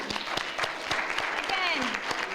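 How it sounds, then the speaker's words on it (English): Audience applause at a city coding event, a fairly soft, steady patter of clapping heard with distinct individual claps, while people talk over it. "Round of applause for everyone."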